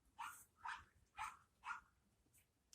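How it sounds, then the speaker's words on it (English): A small dog yaps four times in a steady rhythm, faint and distant as if outdoors, then falls quiet. "especially if you heard that little yappy dog outside."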